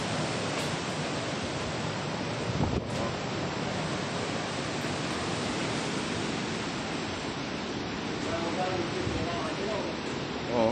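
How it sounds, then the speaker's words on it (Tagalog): Strong wind roars steadily outdoors on a morning after a storm has wrecked a house, a dense, continuous broadband rush with faint gusting swells and no pauses. "Malakas pa rin hangin."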